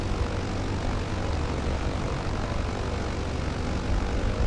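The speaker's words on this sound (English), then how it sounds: "Diamond DA62. That's a nice plane." Steady drone of a Diamond DA62 twin-engine airplane in Microsoft Flight Simulator, a loud, broadband engine and propeller roar that stays constant throughout with no talking.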